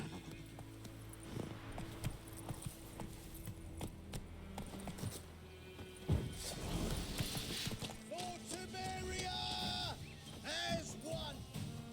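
A horse trots and gallops in The Witcher 3, steady clip-clopping hooves with an occasional whinny, jangling tack and a swell of game music, while a voice speaks over it.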